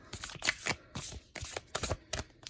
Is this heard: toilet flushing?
no